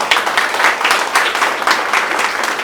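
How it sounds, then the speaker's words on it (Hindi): Loud, energetic clapping from a crowd at an RCM success-story gathering in honour of Raju Dada, a dense burst of many hands with slight pulsing surges, close and sustained without talk. "राजू दादा के लिए भी जोरदार ताली बजा दीजिए"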